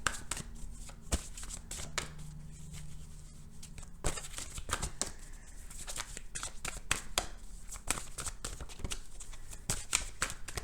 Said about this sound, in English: Oops, sorry, I always bump my mic when I'm shuffling cards, doing things.